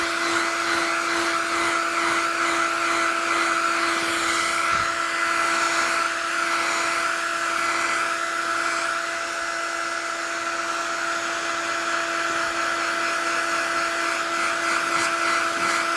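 A hair dryer blows steadily with a constant whining hum as it dries a watercolour painting, loud and unbroken for the whole stretch with no talking.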